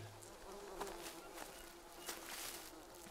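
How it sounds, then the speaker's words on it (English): Bees buzz in the jungle survival game Green Hell, a faint, steady drone with a few brief louder passes and light rustling, no talk over it. "there's some more bees"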